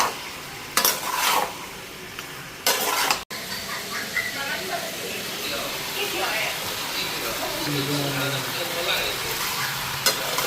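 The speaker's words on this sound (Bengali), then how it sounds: "এখন চিকেনটাও ভালো করে ফ্রাই করে নিই।" Chicken pieces fry with turmeric in a hot pan, giving a steady sizzle broken by loud scraping stirs and a sharp clack of a utensil against the pan early on, then a continuous close crackle.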